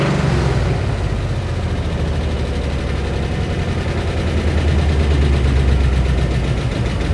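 Car engine running close and loud, a steady throbbing rumble with a slight rise in intensity near the end.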